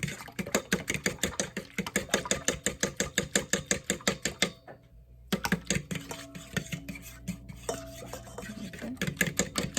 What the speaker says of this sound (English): And then I'm going to whisk my eggs.